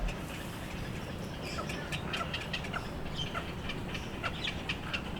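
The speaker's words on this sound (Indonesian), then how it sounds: "Di Kuntul Kerbau, itu Kuak Malam, ada Kuak Malam" Cattle egrets and night herons call from a colony in the middle of a city, giving scattered chirps and squawks over a constant broadband rumble of urban background noise.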